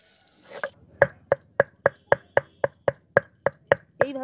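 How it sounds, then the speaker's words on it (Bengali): Boneless chicken is ground on a traditional grinding stone with about a dozen sharp, evenly spaced knocks and scrapes, close and loud, after a brief rustle at the start. "চিকেনটাকে সিলে বেটে নেব"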